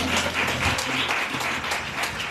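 A church congregation applauds steadily and loudly throughout, a dense wash of clapping during a sermon with no voice standing out.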